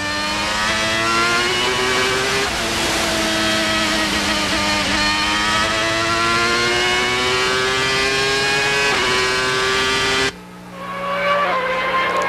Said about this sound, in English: A little taste of 12-cylinder Ferrari power there.